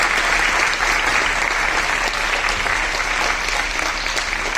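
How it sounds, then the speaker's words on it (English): Audience applause after a performance at a Telangana Sangeet Natak Akademi event, sustained dense clapping from a large crowd. "So I think she deserves a very big round of applause from all"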